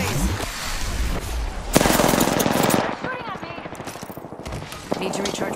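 Rapid automatic gunfire in the Apex Legends battle royale shooter: dense, loud bursts of shots rattle near the listener for several seconds, with a brief pause and a final short burst.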